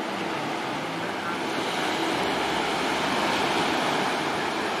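Surf washing onto a white sand beach at Ao Wong Duan, Koh Samet, Thailand, a steady broad wash of waves with some wind noise running throughout, no distinct breaks.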